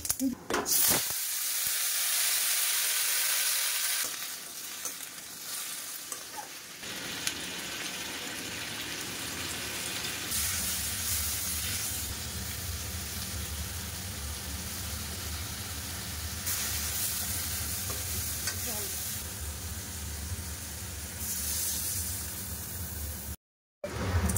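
Chutney cooks in a pan with a broad, steady hiss and sizzle that swells and eases over time, with occasional stirring scrapes and a brief drop-out near the end.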